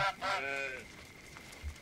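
A goose in the video game Force of Nature 2 gives one loud nasal honk, followed by faint game ambience.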